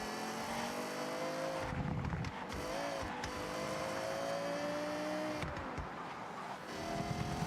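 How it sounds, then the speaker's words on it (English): A Lexus LFA engine in the Forza racing game revs with rising and falling tones, heard as a steady, moderately loud whine with a couple of sharper throttle bursts and no talking. "So I'd say the LFA sounds kind of accurate."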